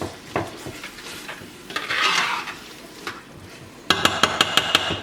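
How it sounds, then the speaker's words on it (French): Tomato purée sizzles in a pan while a utensil stirs and scrapes through it. The sound is close and crackly, and a run of sharp metallic taps against the pan closes it out. "Je vais laisser griller ma tomate en purée."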